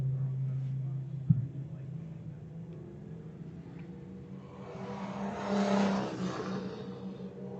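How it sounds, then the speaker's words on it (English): Street-class drift car engine ripping around a qualifying track at Emmett, Idaho: a low steady drone with a brief sharp knock, then a louder roaring surge as the car sweeps nearer, with no talk. "It is great to see Jeff's car out here ripping and not cutting out like it was at Willow"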